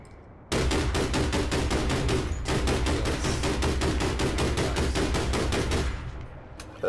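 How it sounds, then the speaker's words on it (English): Rapid automatic gunfire from the online shooter game APB, a loud, steady stream of evenly spaced shots in two long bursts with a brief break between them, alone with no talk. "I will shoot all the things."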